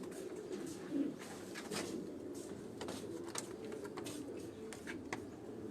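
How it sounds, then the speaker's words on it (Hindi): Soft coos from blue breeder pigeons repeat through a low, steady background murmur, with a few faint clicks and rustles scattered across the clip. "नीले कबूतर है ये नीले कबूतर हैं दोस्तों।"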